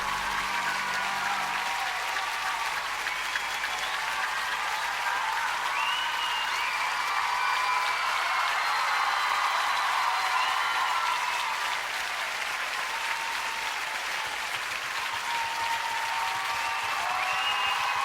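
Concert audience at the Olympia in Paris applauding in 2006, a long, loud, steady wash of dense clapping with faint cheers and whistles over a low fading instrumental note.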